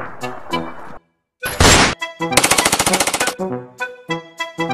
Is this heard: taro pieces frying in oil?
no